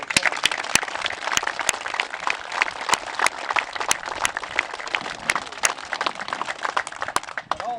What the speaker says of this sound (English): If you give these guys a round of applause.